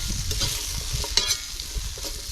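Butter and potatoes sizzle in a cast iron pan over a campfire, a dense continuous frying hiss with soft stirring scrapes, close and steady throughout.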